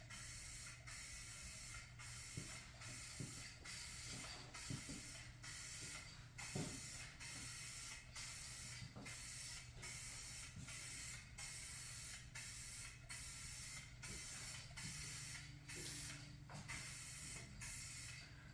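Spray painting a hood scoop for a 2019-or-later GMC Sierra 1500, a soft steady airy spray hiss broken into short regular bursts by many quick trigger releases, faint and close.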